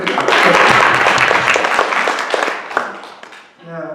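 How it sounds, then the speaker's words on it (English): An audience at a city council candidates forum breaks into full applause, dense clapping that swells early and then tapers off over a few seconds before a voice starts speaking at the end. "Can I get an applause?"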